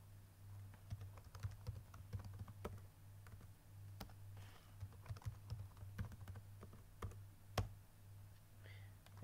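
Keys tapped on a computer keyboard while entering a password, a soft irregular run of clicks spread through the stretch over a steady low hum, quiet and close.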